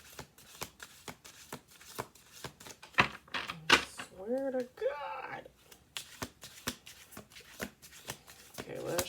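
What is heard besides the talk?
shuffling cards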